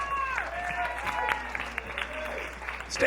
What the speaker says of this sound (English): Listen to the spectacular round of applause you get just for coming up on this stage